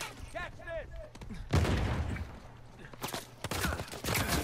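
Gunshots ring out in Uncharted 4 multiplayer as bursts of weapon fire, fairly close, following a short stretch of talk.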